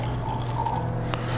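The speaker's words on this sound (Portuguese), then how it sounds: "Vai lá um pouquinho de café." Coffee being poured into a cup, a steady liquid trickle with a low continuous hum beneath it and a brief clink near the end; no one speaks.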